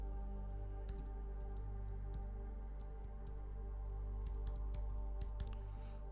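Fingers type on a computer keyboard with a run of light, fast key clicks at an irregular pace, sitting over a steady low hum of background noise.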